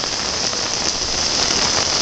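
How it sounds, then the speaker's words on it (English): Heavy rain pours down in Acapulco as a dense, loud, continuous hiss of drops hitting surfaces, steady throughout with no voices. "it's raining cats and dogs"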